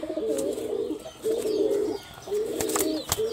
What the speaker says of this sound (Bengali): কালো চোখের এক জোড়া জাগ কবুতর দেখাচ্ছি।